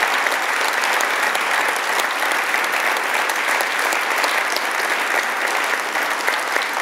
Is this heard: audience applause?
yes